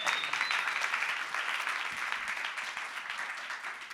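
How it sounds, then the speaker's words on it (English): An audience at a New York Public Library talk on AI and truth applauds the library, with dense, steady clapping from a sizable crowd that fades slightly toward the end. "You can applaud for the library."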